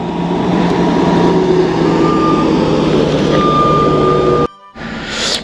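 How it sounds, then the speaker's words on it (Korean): A 15-ton dump truck descends a rural road by a housing lot, its engine rumbling steadily and close while intermittent reversing beeps sound over it, before the noise cuts out abruptly near the end. "와, 15톤 담프도 내려오잖아."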